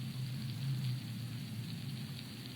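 Prawns crackle underwater as a dense, continuous patter of tiny snaps over a low background rumble, with no voices.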